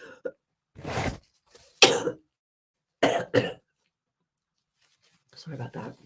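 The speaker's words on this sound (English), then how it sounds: "I'm recovering from this lovely cough that I've had for a while now" A few sharp, close coughs and throat-clearing bursts from a man recovering from a lingering cough, spaced apart with short silences between them in a quiet indoor room.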